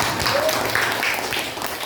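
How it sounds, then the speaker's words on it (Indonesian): A class of schoolchildren applauding in a classroom, a dense steady patter of clapping held throughout at fairly loud level, with voices mixed in underneath. "Kasih tepuk tangan dulu"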